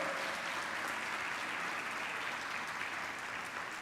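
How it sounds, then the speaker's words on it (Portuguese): Dense applause from a church congregation during a youth service, a steady wash of many hands clapping throughout with no voices on top. "Você pode aplaudir o Senhor por essa palavra"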